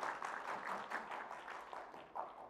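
An audience claps together at a Korean community healthcare event, a dense, even patter of applause that stays steady for a couple of seconds at moderate distance.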